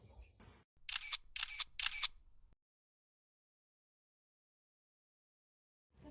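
Three quick camera shutter clicks sound in a row, close and crisp, with a brief bit of noise before them and then silence.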